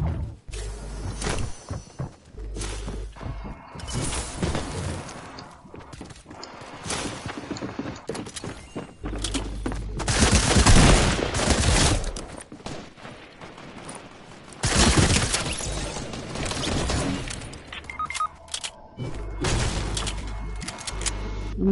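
Gunfire in a PS4 shooter game, with repeated bursts and volleys of shots and a dense stretch of heavy firing in the middle, loud and continuous.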